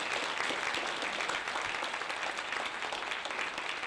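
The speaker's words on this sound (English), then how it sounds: "So I want to get a round of applause here for the awesome committee of caring collaborators." Audience applause for a caregivers forum's event committee, a steady, dense wash of clapping that holds at an even level from start to finish without any talk over it.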